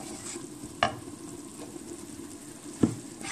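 Ground spices fry lightly with golden-brown onions in a pan, a steady soft sizzle broken by two sharp stirring scrapes, close and moderate, with no talking.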